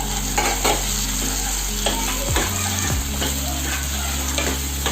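Ginger, garlic, onion, capsicum and carrot sizzle loudly in a hot pan for paneer chilli gravy, a steady close frying hiss with scraping stirs and a brief clatter of utensil against the pan.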